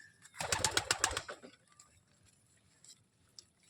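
Pigeons in a home loft give a short burst of throaty cooing and flapping up close, then fade to faint rustling and a few soft distant calls.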